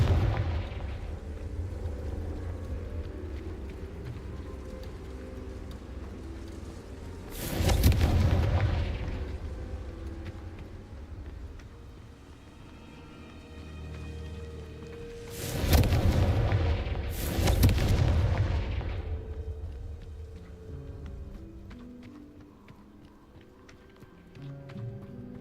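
Fiery spell blasts in the video game Hogwarts Legacy, three loud booming explosions, the last two close together, over a steady ambient game soundtrack.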